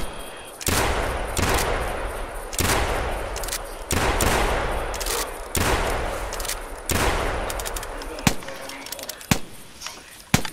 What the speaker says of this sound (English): I shoot first.